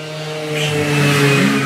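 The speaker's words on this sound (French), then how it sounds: "Ah, c'est une moto." A motorcycle engine revs steadily and rises in intensity, with a strong harmonic drone that builds over under two seconds, loud and close, without voices.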